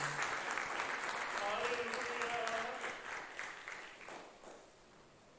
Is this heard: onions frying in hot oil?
no